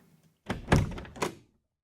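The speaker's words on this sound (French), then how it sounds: "on va rajouter un bruit de porte" A car door opening and shutting, added as a sound effect for a short film scene, brief close thunks and a solid slam within about a second, isolated against silence.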